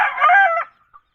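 A rooster crows once, loud and close, with a single brief cluck after it. Hens are also around in the backyard flock.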